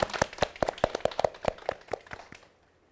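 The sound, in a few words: audience applause after a science lecture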